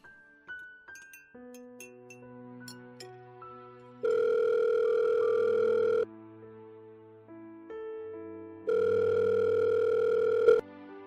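A telephone call being placed, with electronic tones and beeps followed by two long, steady ringback tones separated by a pause, clear and close with no other sound.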